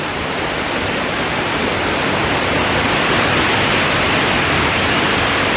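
Mae Sa waterfall in Doi Suthep-Pui National Park, Chiang Mai, pours in a steady, loud, dense roar of rushing water that fills the whole clip without a break, with no voices.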